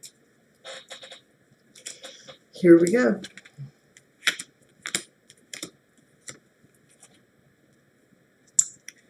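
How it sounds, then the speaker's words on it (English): A deck of angel oracle cards is shuffled in short, dry riffling bursts and soft card taps, close and intermittent, broken by brief pauses, with a person speaking a few words partway through. "I'm going to shuffle till it feels right"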